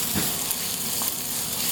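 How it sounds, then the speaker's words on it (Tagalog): Two crushed onions sautéing in a pan for pork asado, a steady close sizzle with faint stirring scrapes, no talking. "Continuously saute po natin yan hanggang tuluyan ng lumambot yung sibuyas."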